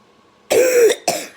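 A woman coughs twice up close, wheezing and trying to bring up phlegm: one longer harsh cough followed by a shorter one, loud and alone.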